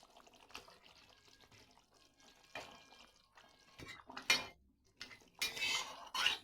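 A utensil works through rohu fish head curry with pointed gourd in a simmering pot, giving uneven metallic clinks and scrapes that grow louder toward the end, with no talk.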